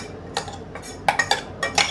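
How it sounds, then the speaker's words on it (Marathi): A metal cooking pot is handled and set aside in a home kitchen while making kothimbir vadi, giving a series of bright, close clinks and knocks of metal on metal, spaced irregularly with a cluster toward the end. "बाजूला ठेवून देऊ भांडं"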